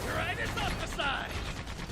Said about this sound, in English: Shoot him down with the machine gun.